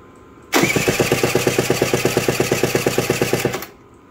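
A two-stroke engine with under 3 bar of compression fires up and runs flat out at full throttle, loud and close, with a fast, even, pulsing beat that holds steady for about three seconds and then cuts off abruptly.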